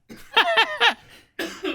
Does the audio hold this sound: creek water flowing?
no